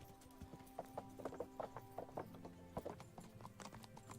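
A horse's hooves clip-clop in the video game Kingdom Come, a quick, uneven run of sharp steps at close range over faint ambience, with no talk.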